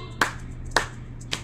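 Three sharp hand claps, evenly spaced and close, over a low steady hum, clapped as part of a children's song game in a group meeting.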